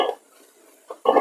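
Carrot pieces drop into a glass jar for beetroot kanji, giving short hard clattering knocks at the start and end with a quiet pause between.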